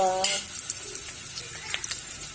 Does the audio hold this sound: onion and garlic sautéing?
yes